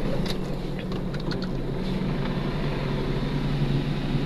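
A car with a hard steering problem sits idling, its engine giving a steady, even low rumble that stays close and constant with no revving and no talk over it.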